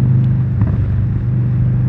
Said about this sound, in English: The bike sounds good going down the road